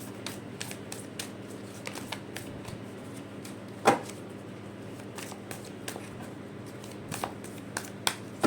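Tarot cards are shuffled by hand, giving a rapid series of close, soft riffling ticks and taps, with one sharper slap partway through as cards drop.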